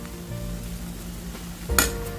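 Okra (bhindi) cooks as a masala bhaji in a pan, giving a low steady sizzle close by, with a brief louder scrape or stir near the end and no talking.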